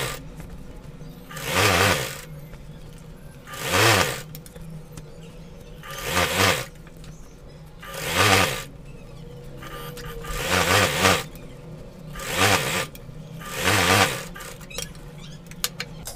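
A sewing machine stitches elastic onto a gharara in repeated short bursts, seven runs of whirring separated by brief pauses, close and moderately loud.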